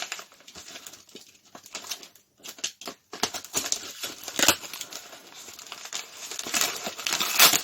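Paper packing inside a parcel of mixed video games is crumpled and rustled by hand during an unboxing, giving close, irregular crinkles and rustling bursts with short pauses and no talking.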